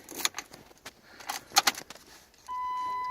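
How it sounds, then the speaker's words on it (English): Keys on a ring fitted with a decorative bling ring jangle and click faintly as they go into a Jeep Wrangler ignition, in several small metallic bursts, followed by a steady electronic chime. "you put the key in"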